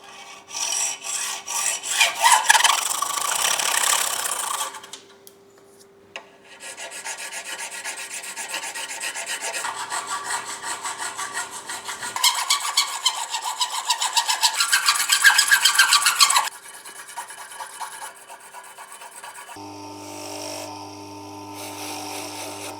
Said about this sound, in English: So I'll chop off the threaded section and then add a little slot so we can use a flathead screwdriver on this.